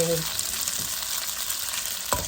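Wide rice noodles stir-fried with dark soy sauce sizzle steadily in a hot pan, a close, continuous frying hiss broken by a brief scrape of stirring near the end, with no talking.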